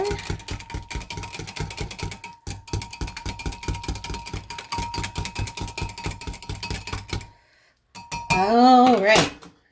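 Spoon clinking rapidly against a dye pot while stirring hot water into Coral Reef Aqua dye for home yarn dyeing, a steady metallic scraping rhythm that stops, followed by a brief warbling sound.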